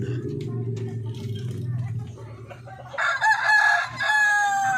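A large rooster crows loudly and close by, one long drawn-out call near the end, following someone speaking over low clucking and farmyard sounds.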